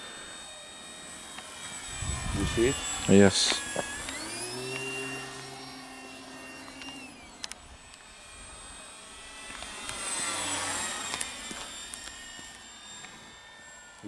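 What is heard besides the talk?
Durafly T-28 Trojan RC model plane flying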